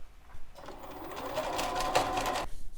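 A sewing machine stitches jelly roll quilt strips together in one steady run of a couple of seconds, close and fairly loud, with brief quiet at the start and end.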